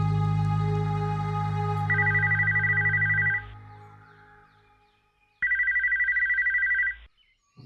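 A telephone rings inside a family home in a Hindi TV serial. It gives two bright electronic ringing bursts, each lasting about one and a half seconds, with a pause between them, and a low rumble fades out early.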